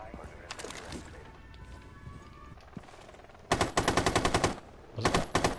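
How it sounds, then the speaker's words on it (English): Rapid automatic gunfire in the game Rainbow Six Siege, with Rook firing and missing near the cap: two loud, close bursts of fast shots under and after a quieter stretch with faint game sounds. "Rook misses all his shots onto the cap"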